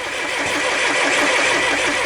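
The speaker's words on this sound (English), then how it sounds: "So now we'll let the engine starter turn it over" A John Deere tractor diesel engine cranks over on its starter motor during fuel injection pump repair, a steady, close, rapid churning rhythm without firing, with no talk over it.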